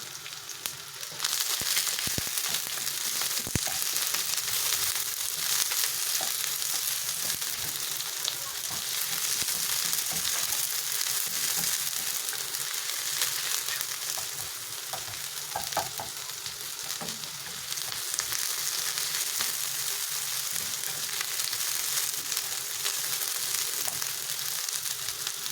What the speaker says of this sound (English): Add your chopped onions and saute for a minute.